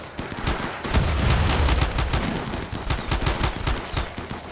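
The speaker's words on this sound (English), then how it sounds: "Maybe that was just another mortar shell." Mortar shells and gunfire in a RimWorld battle make a dense, sustained barrage of rapid booming and crackling impacts, loud and continuous for several seconds.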